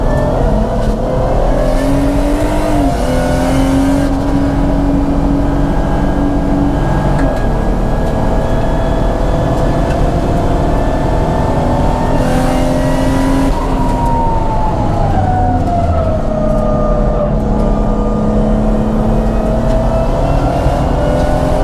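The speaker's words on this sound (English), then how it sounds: "Can you hear the traction control?" A 500hp Audi A5 with a turbocharged VR6 runs hard on a race track, its engine loud and close, droning steadily with rising and falling pitch and a stuttering note as the traction control cuts in.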